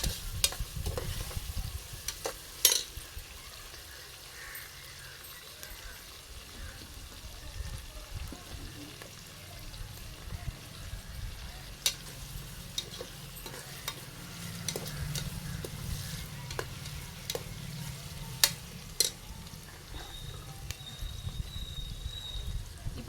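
Onions and green chillies sauté in a pan for chicken biryani: a low, soft sizzle broken by frequent sharp clinks and scrapes of a spatula stirring against the pan.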